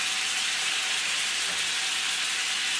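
Salmon pieces fry in butter in a pan over medium heat, a loud, constant, hissing sizzle close to the listener with no break and no voices.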